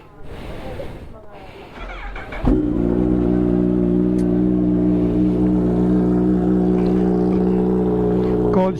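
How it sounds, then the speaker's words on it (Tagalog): A Kawasaki ZH2 motorcycle cold-starts after a few seconds of talk and cranking, catching sharply and settling into a loud, steady high idle with a strong harmonic drone, close by, while a voice speaks briefly over it. "Una na nating cold start yung aking motor."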